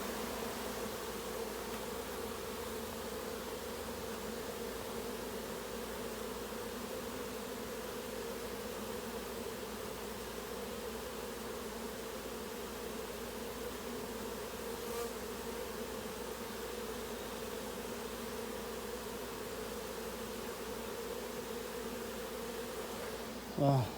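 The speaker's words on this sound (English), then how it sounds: "I just saw a major flurry of bees and I knew it was a swarm of some sort." A mating swarm of bees hums in a yard, a dense, continuous buzz that holds steady throughout with no letup.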